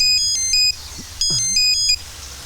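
An electronic phone ringtone plays two short bursts of bright, repeating tones separated by a brief pause, clear and close.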